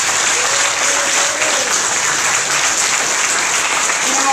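Loud, sustained audience clapping at a concert stage during the Coldsnap Ice Jam 2020, a dense unbroken wall of applause with faint cheering or voices buried underneath.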